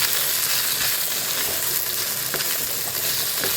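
Paneer pieces fry in a pan over low-medium heat, giving a steady, close sizzle with faint crackles and pops throughout, no voices.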